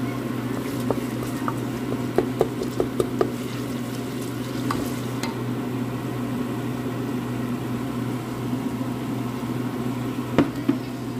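Onion, tomato and harissa frying in a pot, a continuous close sizzle over a steady low hum, broken by scattered clicks and scrapes of a utensil stirring.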